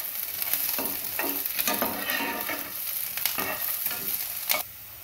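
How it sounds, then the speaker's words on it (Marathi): Cashews and onions frying together in a pan, a loud close sizzle broken by repeated rhythmic stirring scrapes and clatters, ending abruptly, with no talking. "काजू टाकल्यानंतर आपण 1/2 मिनिट परतलेला आहे"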